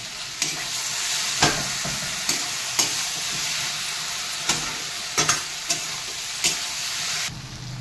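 Shrimp and taro fry together in a pan for a chickpea and peanut chorchori, hissing steadily with a run of regular scraping stirs and knocks, close and fairly loud.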